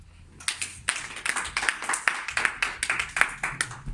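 A church congregation claps in a steady, rhythmic beat to acclaim Jesus, with sharp, fairly close claps repeating evenly at about two per second.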